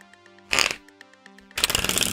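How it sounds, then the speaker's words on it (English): Two bursts of a tarot deck being shuffled, the riffles crisp and close, separated by a quiet pause with faint tonal background. "let's just give a couple more little shuffles to this deck"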